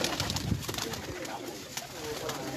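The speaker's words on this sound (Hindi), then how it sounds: "दो तीन कबूतर और दिखाओ" Pigeons cooing on a rooftop among kept birds, soft repeated coos close by with faint background noise.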